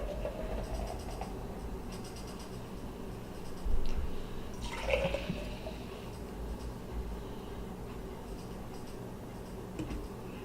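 KBC Pumpkin Ale pours from a can into a glass, a soft continuous fizzing and splashing, close and quiet, with a brief louder gush partway through.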